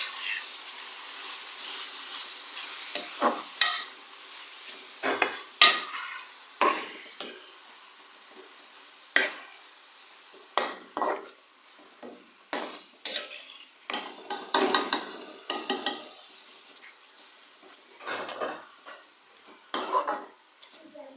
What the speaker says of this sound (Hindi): कीमे को अब हम लोग अच्छी तरह से मिक्स करेंगे।